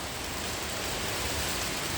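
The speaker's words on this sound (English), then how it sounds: "Oh, and the rain's come too." Steady rain falling outdoors in winter near a workshop with a JFMT 530 x 2000 lathe, a dense, even hiss that holds at constant level throughout with no voices.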